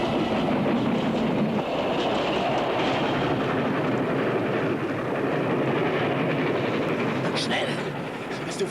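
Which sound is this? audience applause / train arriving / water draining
train arriving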